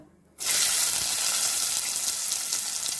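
Chopped onion and curry leaves dropped into hot oil after asafoetida for a spicy prawn curry, a sudden loud sizzle that bursts in after a quiet moment and keeps hissing steadily and close with no talk.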